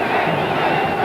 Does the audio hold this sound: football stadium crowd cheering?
yes